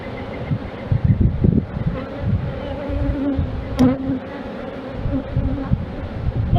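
Honey bees buzz thickly around an open hive frame, a close, dense swarm drone with individual bees passing near and fluttering in and out over the steady hum.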